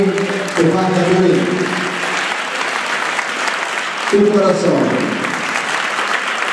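Audience applauding tango dancers at a milonga, steady dense clapping throughout, with a man announcing the couple over a microphone at the start and again near the end.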